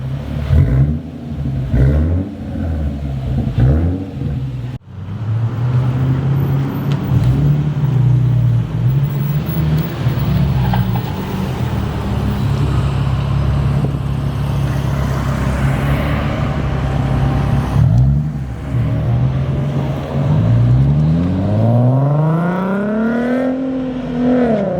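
A 2017 Nissan 370Z fitted with a Greddy Evolution GT cat-back exhaust drives along, its engine droning steadily with rising and falling revs and a sharp throttle blip, loud and close throughout.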